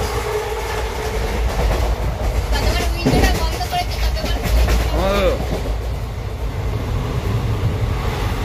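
A passenger train rolls along, heard from inside the carriage: a loud, steady rumble with rhythmic clickety-clack of the wheels and a brief squeal, with faint voices in the background.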